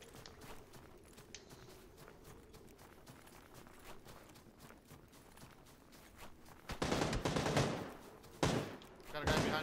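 SLR rifle fire cracks out in PUBG: a few loud, sharp shots burst in near the end after a stretch of quieter shuffling movement.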